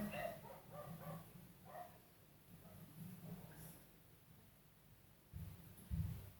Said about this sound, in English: let's wait for the dogs to stop barking